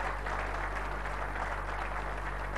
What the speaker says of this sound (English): I feel you should give them a huge round of applause to the 4 general managers.